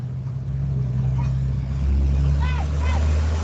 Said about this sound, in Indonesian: Ada suara mobil dulu ini.